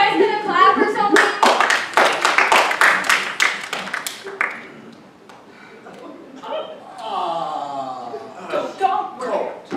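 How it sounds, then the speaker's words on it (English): Scattered audience clapping at a live stage comedy performance, a short burst of claps up front, with an actor's voice talking over and after it. "Are you guys gonna clap or something?"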